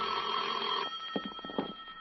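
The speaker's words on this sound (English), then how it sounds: "At 10, my phone rang." A telephone bell rings steadily for nearly a second, then gives way to a few short clicks and knocks, all fairly clear and close with no talk over it.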